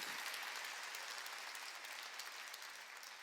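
A church congregation at a worship service claps together, giving a faint, far-off, continuous rustle of many hands that tapers slightly toward the end.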